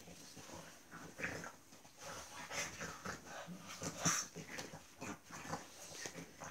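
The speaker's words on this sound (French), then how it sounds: "Les chiens font un boucan." Dogs making a racket in the background, with barks and yelps scattered across several seconds at moderate, fairly distant level amid room noise.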